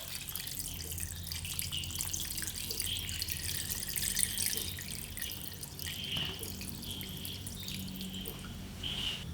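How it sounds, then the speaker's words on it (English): Water from a tap running steadily into a bowl holding raw chicken pieces for a brine, a continuous close splashing and trickling with drips, no voices. "Now we need to fill the chicken with a surplus of water."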